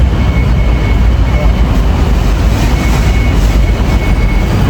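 A BTS Skytrain train at Asok station in Bangkok during the morning rush produces a loud, continuous rumbling roar that holds steady from start to finish.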